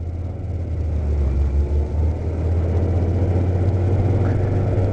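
Honda Goldwing motorcycle engine while riding, a loud steady low rumble close by with wind noise over it, holding an even drone throughout without speech.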